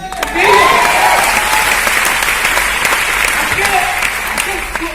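Audience at a training event breaks into loud, sustained clapping from many hands, filling the room nearly throughout with a few faint voices beneath.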